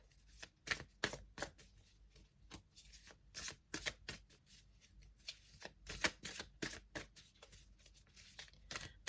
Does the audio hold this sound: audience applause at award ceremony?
no